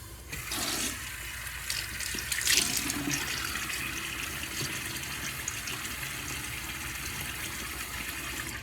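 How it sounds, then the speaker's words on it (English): Tap water runs into a sink while a face is wetted before a wet shave, a steady close gush with brief splashes early on. "let me get my face wet"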